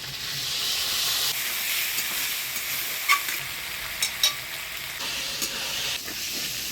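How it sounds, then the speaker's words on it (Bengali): Spice paste frying with potatoes and a splash of water in a pan, a steady close sizzle with a few spatula scrapes and taps, the hiss easing partway through and then surging again. "জল দিয়ে আলুর সাথে মশলাটা ভালো করে কষিয়ে নেব।"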